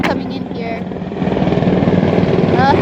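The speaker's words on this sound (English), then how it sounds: "Helicopter." A helicopter passes overhead, its rotor a steady thudding drone that grows louder and fuller over a few seconds, loud and near, with a voice briefly heard over it at the start.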